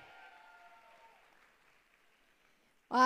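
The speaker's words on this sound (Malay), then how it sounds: "Tepukan kepada saya punya upline juga tu." An audience in a hall at a network-marketing recognition ceremony gives a soft, steady round of applause that thins out over a few seconds, with a faint tone underneath and a voice cutting in at the end.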